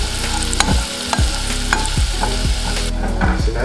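Loud, close sizzling of garlic oil, butter and red pepper flakes in pans, with repeated scraping stirs and knocks of a utensil over a constant frying hiss.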